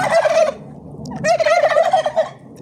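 Two bursts of loud, rapid turkey gobbling, close by, separated by a brief pause, with faint low background noise.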